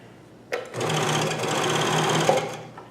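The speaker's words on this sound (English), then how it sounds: "It just can sew without too much bother." A Janome CoverPro 1000 coverstitch machine stitching knit fabric starts up after a short quiet lead-in, then runs in one steady, loud, rapid mechanical whir for about two seconds before slowing near the end.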